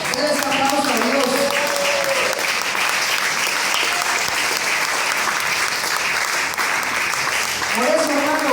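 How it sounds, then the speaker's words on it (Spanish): A church congregation applauding during a sermon, a dense, sustained wash of many hands clapping, loud and continuous, with a voice briefly heard over it at the start and end. "Les aplauso a Dios."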